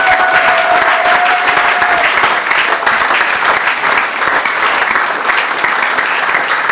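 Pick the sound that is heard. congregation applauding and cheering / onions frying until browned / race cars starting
congregation applauding and cheering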